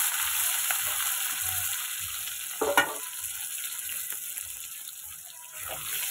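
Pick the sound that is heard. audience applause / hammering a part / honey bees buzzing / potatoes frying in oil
potatoes frying in oil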